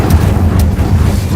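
The Incendio fire spell in Hogwarts Legacy, a loud, deep rumbling whoosh of flame that fills the whole moment, with a voice briefly speaking over it.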